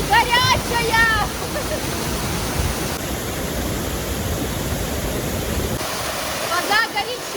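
Hot thermal waterfall at the Benja baths in Albania, a steady loud rushing roar of falling water filling the whole clip, with bird chirps near the start and end.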